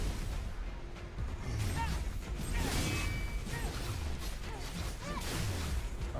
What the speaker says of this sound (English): I'm sure you can hear gunfire in the background.